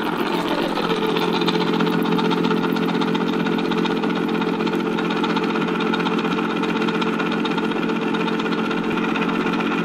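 Small electric motor of a chocolate fountain hums steadily and continuously for about ten seconds, a constant mid-pitched drone with a faint rattle, heard alone without talk.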